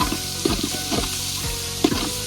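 Onions and green chilies fry in hot oil, a steady sizzle broken by repeated scraping stirs of a spoon or ladle about every half second, close and fairly loud.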